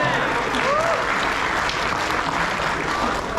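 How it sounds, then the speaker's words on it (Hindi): An audience at a Hindi poetry recital held at IIT Roorkee breaks into dense, continuous clapping that stays strong and even for a few seconds, with faint voices underneath. "ये जो चुटर तालियां बजा रहे हो"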